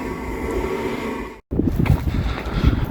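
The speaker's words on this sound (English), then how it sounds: "Here comes my train." A train pulls into a station in Stockholm, a steady loud rumble of wheels and wind that drops out briefly, then comes back rougher with clattering.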